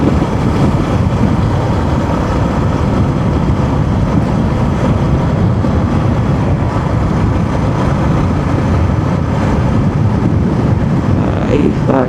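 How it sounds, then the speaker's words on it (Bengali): Constant loud rumbling roar of wind buffeting the microphone on a fast motorbike ride, steady throughout with engine-like drone underneath and no clear speech. "বাতাস বাতাসও প্রচুর হচ্ছে, এত যে বাতাস কেন হচ্ছে কে জানে।"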